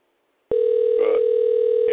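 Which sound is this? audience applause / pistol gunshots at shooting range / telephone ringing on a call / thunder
telephone ringing on a call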